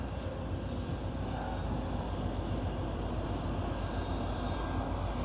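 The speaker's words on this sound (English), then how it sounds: "Y'all can see this train." A train with two engines rumbles steadily past at close range, a broad continuous roar of wheels and engine with a faint metallic squeal riding on top.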